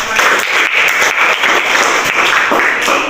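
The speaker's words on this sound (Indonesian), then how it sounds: "Tepuk tangan untuk" A short burst of classroom applause during a teaching-practice lesson: dense, steady clapping from a group of students, fairly loud and continuous, with no talk over it.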